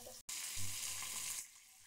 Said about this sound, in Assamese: এইখিনি মই ভালদৰে ভাজিছোঁ, লাৰি আছোঁ, ভাজি আছোঁ।